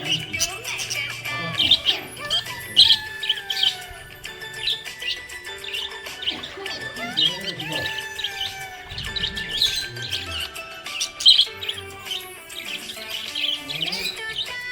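A happy budgie chirps and tweets in rapid, bright bursts, close and lively, continuing throughout over faint background sounds.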